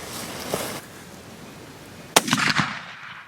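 A pump shotgun fired at a turkey target outdoors, one sharp loud blast followed by a short echoing rumble, with a softer bump of handling noise before it.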